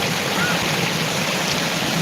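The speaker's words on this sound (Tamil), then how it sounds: "ஃபுல்லாகவே மழை தண்ணி தான்" Heavy rainwater flowing across the ground during a windy downpour, a steady broadband rush of water that stays loud and constant the whole time with no gaps.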